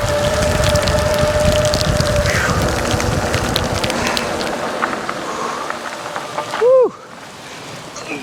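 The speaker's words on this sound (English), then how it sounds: "even when it's pouring down rain" Rain pours down during an e-bike ride, a dense broad wash of splashing and hiss filling the first half, then thinning out toward the end with a short swooping tone near the finish.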